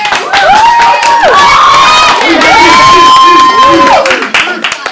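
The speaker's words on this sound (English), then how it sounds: "Alright, just give you guys a big cheer." A class of students in an English 9 debate joust cheering loudly, with high shouted whoops and rising yells from many young voices close by, sustained and very loud throughout.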